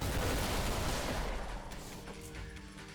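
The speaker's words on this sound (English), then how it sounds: "we unlock the rail cannon" A rail cannon fires in the fast-paced shooter Ultrakill, unleashing a loud, dense blast that floods the mix with roaring noise and then decays into a rumbling tail with faint tonal ringing.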